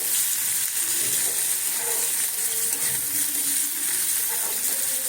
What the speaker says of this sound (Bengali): বাটারের সঙ্গে রিফাইন তেলের সঙ্গে বাটার দিয়েছি তারপরে পেঁয়াজটা দিয়ে একটু হালকা নাড়িয়ে নিচ্ছি